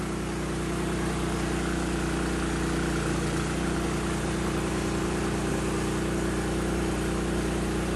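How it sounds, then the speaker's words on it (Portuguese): A loud motor runs steadily close by at a pellet-making process, a constant engine-like drone with a low hum that fills the whole stretch without pause. "tem um barulho aqui bem grande aqui tem um motor aqui"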